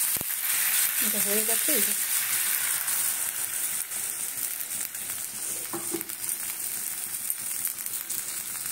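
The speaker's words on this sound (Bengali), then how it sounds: "এইবারে এই ফোড়নটা দেবো।" Whole spices crackle and sizzle in hot oil as tempering for khichuri, a steady close frying hiss with a clink of utensils, while someone speaks briefly.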